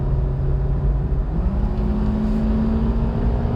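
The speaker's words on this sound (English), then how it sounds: "if you step on it just a little bit, the transmission will downshift" A 2006 Toyota Corolla CE with automatic transmission downshifts and accelerates, its engine droning steadily loud inside the cabin as the tone rises partway through.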